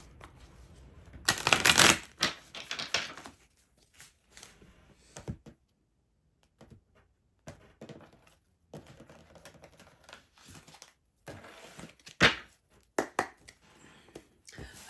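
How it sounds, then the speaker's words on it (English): Tarot cards being shuffled in quick riffling bursts, loudest early on, followed by softer shuffles, taps and handling noises, close up with no talking. "One more shuffle."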